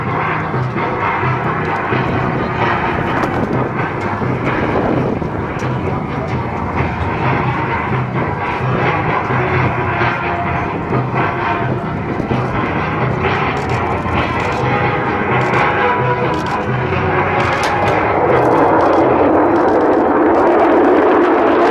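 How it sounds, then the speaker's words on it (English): An F-35B and an FA-18 making a high-speed reconnaissance pass at a Marine air-ground task force demonstration at Iwakuni Friendship Day 2018 produce a continuous loud roar, swelling toward the end as the jets close in. "the F-35B and FA-18 will execute a target reconnaissance pass"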